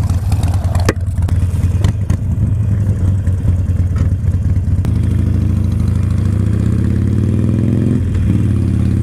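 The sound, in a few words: Harley-Davidson Sportster 48 motorcycle engine riding off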